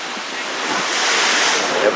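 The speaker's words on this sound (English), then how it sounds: "a wave just crashed right here, and we're sitting right here" Ocean waves surge and crash against the rocky Barbados coast near cave openings during high surf, a close, loud continuous roar swelling toward the end, mixed with wind buffeting.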